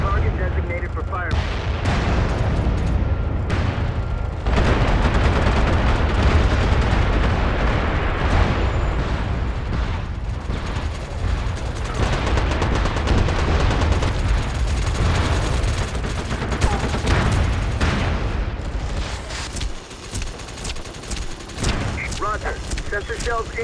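Dense, continuous battlefield din in the shooter game MAG: booming artillery blasts and rattling gunfire layered thickly, loud and unrelenting throughout.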